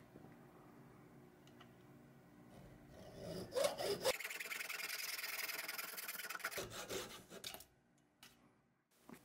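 Small pieces of metal tubing being filed and deburred, giving a close, scraping rasp that builds into a steady stretch of strokes before tapering off, with no talk.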